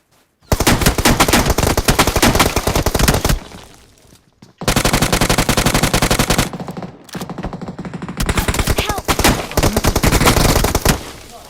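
Loud bursts of automatic gunfire in a video game, rapid shots in long volleys broken by brief pauses, with close, dense firing throughout.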